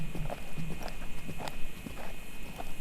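A thoroughbred's hooves beat in a rhythmic three-time pattern while cantering, muffled thuds on soft footing repeating steadily at moderate distance.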